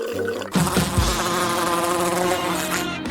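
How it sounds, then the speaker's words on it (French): A bee buzzes loudly and steadily close by in a kitchen, a continuous droning whine that lasts nearly the whole time with no talk over it. "Il y a une abeille?"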